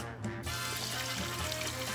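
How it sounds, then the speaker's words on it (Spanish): Water pours steadily into a cooking pot, two cups' worth, in a continuous rushing splash that fills the clip from start to finish, close and fairly loud with no talking over it. "le vamos a agregar dos tazas de agua"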